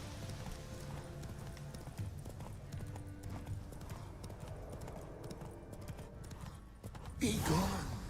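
Hooves of Geralt's horse Roach clip-clopping at a trot in The Witcher 3, a steady rhythmic patter over ambient background, ending in a loud neigh or snort; a voice speaks over it.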